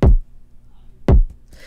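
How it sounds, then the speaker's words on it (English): Two deep, punchy kick drum hits from a WA Productions sample about a second apart, each with a heavy low thump and quick decay, followed by a soft noisy tail. "which is a nice thick kick, one of those WA Productions kicks"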